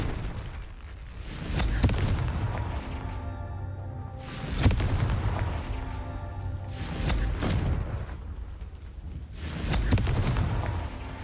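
Repeated Confringo fire spell explosions from Hogwarts Legacy land as loud booming blasts at a fairly regular rhythm, each one swelling and rumbling before the next.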